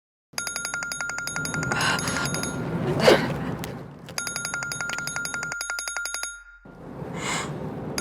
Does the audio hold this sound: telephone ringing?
yes